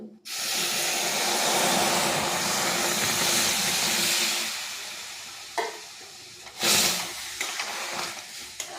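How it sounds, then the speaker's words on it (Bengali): Water hits a hot pan of dhoka curry with a loud, sustained sizzle and hiss of steam that slowly fades over several seconds, followed by a few quieter clatters and bursts of stirring. "দিয়ে দিচ্ছি জল"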